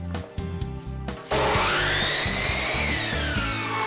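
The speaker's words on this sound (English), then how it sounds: "we're going to slide the saw over to the left 45-degree miter angle and make our cut" A miter saw spins up and then cuts bullnose trim at a 45-degree angle, a loud, steady whining buzz with a pitch that drifts as the blade works through the piece, close and alone.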